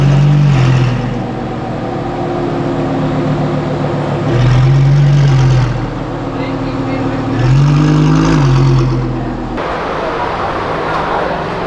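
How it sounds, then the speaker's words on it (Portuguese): A Ford Mustang idles loudly nearby, its low engine note rising in smooth swells a few times as the throttle is blipped, with people talking around it. "É bonito demais essa lenta, velho."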